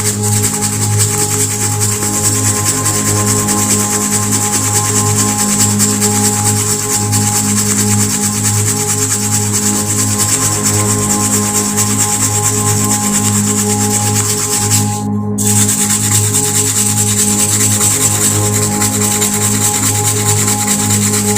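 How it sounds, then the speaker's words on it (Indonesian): Steady rubbing and scrubbing on an ink-stained bag worked with Sunlight bar soap, a continuous dense abrasive scratching that runs for the whole stretch, with one sharp brief scrape partway through and no talk. "lalu kita ambil lagi sunlight, kita oleskan lagi seperti ini sobat, kemudian kita gosok kembali"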